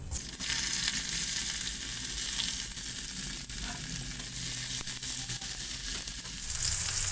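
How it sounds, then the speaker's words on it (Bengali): Onion frying in hot oil with cinnamon, cardamom and cloves gives a loud, continuous close sizzle with faint scattered crackles throughout. "এবার আমি এর ভিতর পেঁয়াজটা দেব"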